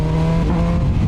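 A QJMotor SRK 921 four-cylinder Chinese super naked motorcycle engine pulling hard, a loud, close, steady growling drone with no gaps.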